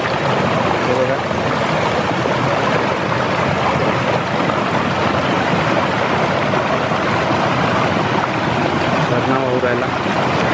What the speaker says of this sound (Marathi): झरणा वाहू राहिला.